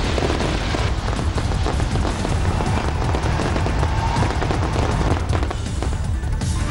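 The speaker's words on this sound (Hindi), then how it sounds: "नए साल ने सबसे पहले न्यूजीलैंड के ऑकलैंड में दिए दस्तक, रंग बिरंगी आतिशबाजी से आसमान हुआ लाल" New Year fireworks burst over Auckland, New Zealand, in a continuous loud barrage of crackling pops and booms with no pauses.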